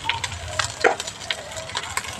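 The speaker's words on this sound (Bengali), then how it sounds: "এখন নেড়ে চেড়ে নেব" Spices with turmeric and salt stirred in a frying pan, a steady soft sizzle with scraping spoon strokes and occasional louder clinks against the metal, close by.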